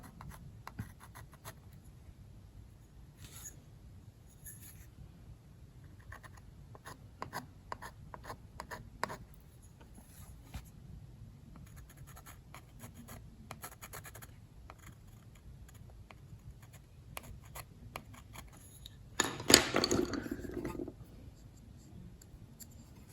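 A steel burnisher rubs down scrape marks on a mezzotint plate in soft, faint strokes, ending in a louder, denser burst of rubbing near the end, with no talking.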